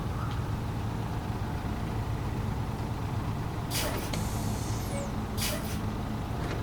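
Heavy truck engine rumbles steadily while parking a trailer in SnowRunner, with two bursts of air-brake hiss partway through.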